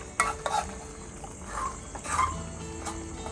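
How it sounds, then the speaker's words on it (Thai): Chicken feet curry ingredients are stirred in a pot over a low flame, giving soft scraping and light clinks of a utensil against the pot, with gentle simmering underneath, fairly quiet and close. "เดี๋ยว คลุกเคล้าให้ตัวส่วนผสมเข้ากันนิดนึงนะครับ"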